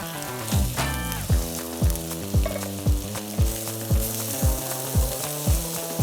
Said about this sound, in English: And all we'd want to do is get a little seal on these.